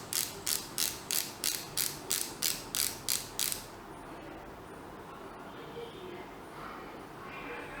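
A pen-style highlighter being clicked repeatedly up close: about eleven sharp, evenly spaced mechanical clicks over a few seconds, then they stop and only quiet room tone remains.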